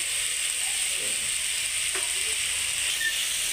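Mixed vegetables and karkul being sautéed dry with spices in oil, a steady soft sizzle with light scraping of a spatula throughout, no talking.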